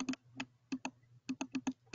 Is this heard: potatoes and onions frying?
no